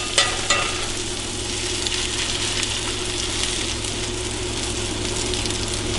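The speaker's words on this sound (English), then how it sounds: "All right, I'm gonna try and flip this one" Potato hash browns fry in oil in a pan, giving a loud, continuous close sizzle throughout, with a faint knock near the start as a patty is flipped.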